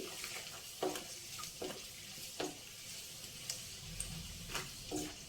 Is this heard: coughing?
no